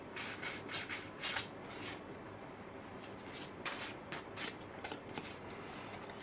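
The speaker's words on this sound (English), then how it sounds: "I'm just going to sand the end a little bit, just to make sure it's a nice and clean square edge." Abrasive sanding on the end of a small plastic part from a TT:120 model railway bridge and shed kit, heard as repeated short rasping strokes in bursts, close and fairly quiet with no talking.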